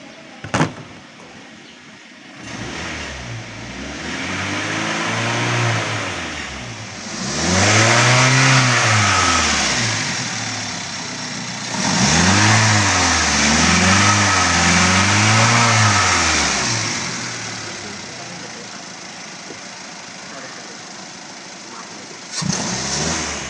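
Car engine revved repeatedly during a periodic maintenance check in an automotive workshop, idling then swelling through two long rising-and-falling revs, close and loud, with brief clunks at the start and end.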